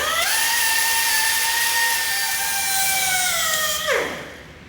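An angle grinder works over steel roller stands in a shop, a loud steady high whine held for several seconds before the motor winds down at the end.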